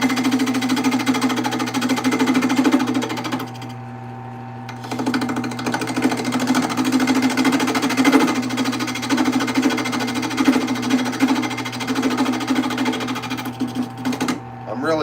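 A wood lathe spins at 800 RPM while material is turned, giving a steady motor hum with a rough, chattering cutting texture that briefly drops out and returns.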